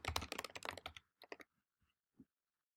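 Computer keyboard typing in an online real estate form, a dense run of quick keystrokes for about a second, then a few scattered clicks and taps, close and clear with no talk.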